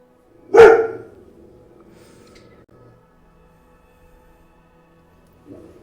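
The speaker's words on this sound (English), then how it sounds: "my dog wants to bark right now" A single loud, close dog bark rings out sharply, followed by near silence and a faint sound at the end.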